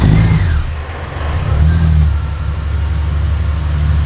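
Engine of an Australian drift car revving and idling, a loud, close, rumbling drone that swells and eases over a few seconds with no talking.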